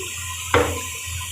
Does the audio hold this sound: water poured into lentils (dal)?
yes